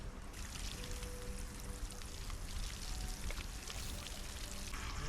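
Water pours in a steady, unbroken stream as plants are watered with a suction-style watering tool in the video game Solar Punk, a soft, even gushing that runs throughout.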